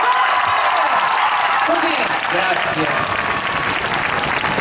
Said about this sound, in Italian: voglio che fate un applauso enorme